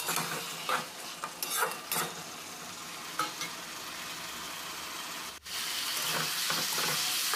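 Fried potatoes and spice masala sauté in a pan for a rui fish and potato curry, giving a steady close sizzle broken by the scrape and clink of a stirring utensil against the pan.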